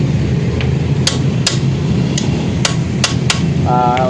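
Sharp, separate hammer blows ring out on a metal motorcycle center stand, about six strikes at an uneven pace, close and loud over a steady background hum, ending in a brief tonal whine.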